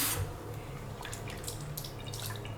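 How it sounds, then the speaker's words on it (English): A makeup brush is rinsed under a running tap until the water runs clear, giving a steady soft stream of water with small drips and splashes close by. "Keep washing it until it runs clear."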